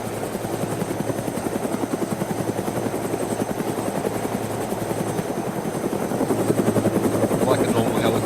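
Helicopter in the ArmA II DayZ game, a steady close rotor thump and engine whine running continuously and loud, swelling slightly near the end, with a voice talking over it.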